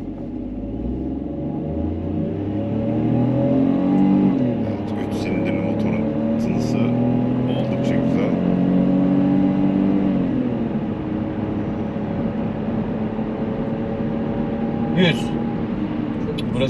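A new Citroen C3 pulls away slowly from a standstill on a steep slope, its engine droning steadily with shifting tones and muted cabin noise throughout.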